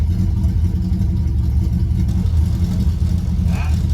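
An old MG car's engine runs loud and close with a low rumbling drone as the car pulls away for the first time in 27 years, a faint voice briefly heard near the end.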